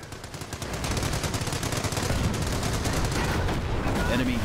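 Company of Heroes battle with continuous rattling gunfire, dense machine-gun bursts and scattered shots building quickly and holding steady, with faint voices underneath.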